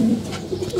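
Pigeons kept with newly hatched chicks give a brief, soft burst of low cooing nearby, a couple of short throaty notes in quick succession.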